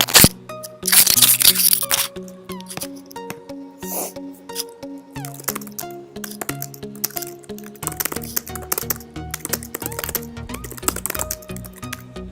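Rapid typing on a computer keyboard during an online typing test fills the clip, with dense, close key clicks in quick irregular bursts and a brief pause around the middle.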